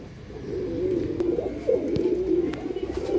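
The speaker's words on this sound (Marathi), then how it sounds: "एकदम सुपर क्वालिटीचे कबूतर आहेत मित्रांनो" Punjabi pigeons of a rocket bloodline coo in low, rolling, continuous calls, close and steady, with a few faint clicks over a light background hum.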